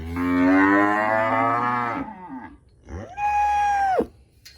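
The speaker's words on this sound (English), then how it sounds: "I don't think she wants to come out because all these cows are standing here" Cattle on a farm moo loudly and close by, a long low moo followed after a pause by a shorter rising one, with no people talking.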